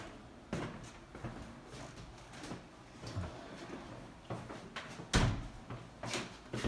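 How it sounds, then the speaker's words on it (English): A door swings shut with a solid thud near the five-second mark, amid smaller bumps and handling knocks in a quiet room. "Close the door."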